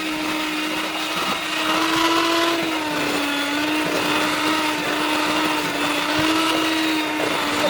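An electric hand mixer whirs through butter, sugar and cookie dough in a mixing bowl, a loud steady motor hum that sways a little in pitch as the beaters work, with no talking.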